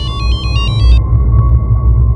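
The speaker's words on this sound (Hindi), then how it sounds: "फिर 1 महीने बाद धर्मेश का लैंडलाइन नंबर से फ़ोन आया।" A landline telephone rings with a rapid, pulsing electronic trill for about a second, then stops, leaving a steady low hum and room noise.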